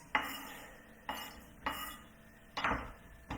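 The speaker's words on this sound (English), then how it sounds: "So give it a little stir" A spoon scrapes and knocks around a pot of thick chocolate fudge, four soft periodic stirring strokes with light metallic clinks, quiet and close.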